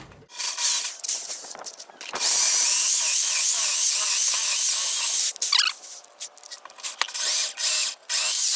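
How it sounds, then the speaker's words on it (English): A power drill bores holes through a wooden beam for a swing pergola, a steady loud whirring drone held for several seconds, with shorter bursts and pauses before and after. "I'm gonna go lay that out and drill those holes on that beam."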